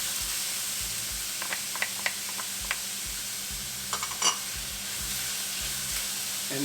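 Ginger sizzles in a hot pan while upma is being made, a continuous close frying hiss with regular low stirring knocks and a few sharp crackles and spits.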